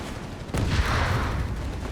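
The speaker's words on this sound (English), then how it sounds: "Pak-38 scores hitting the Sherman" An anti-tank gun fires on an American Sherman tank during a Company of Heroes 3 battle, giving a single heavy boom followed by a sustained rumble of impact and battle noise.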